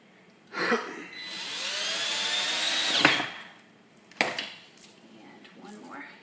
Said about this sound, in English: So I'm going to put these right into these pilot holes that have already drilled.